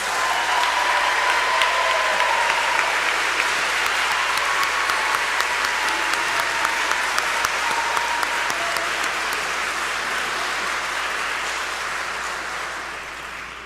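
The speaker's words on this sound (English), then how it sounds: "Let's give them a round of applause." Sustained audience applause at a 2023 commencement ceremony, honoring graduating students; a steady, dense wash of many hands clapping throughout, slowly tapering near the end.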